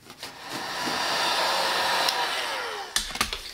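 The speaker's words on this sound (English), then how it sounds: "I'll get the heat gun here and help it along" Heat gun blowing a steady, loud broadband rush while drying a repair patch on the rear wheel arch of a Triumph TR4, running for about three seconds before a few clicks and knocks as it cuts off.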